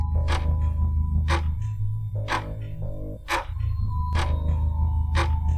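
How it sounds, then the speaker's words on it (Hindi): A steady, even ticking, about one tick per second, over a low droning background with a faint musical hum. "पूरे घर के सन्नाटे को सिर्फ एक ही चीज तोड़ रही थी, और वो थी घड़ी की आवाज"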